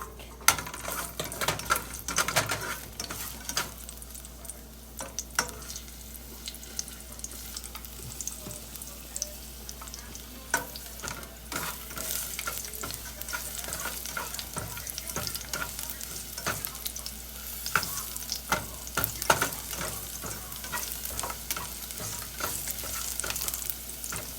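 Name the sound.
garlic frying in a warm pan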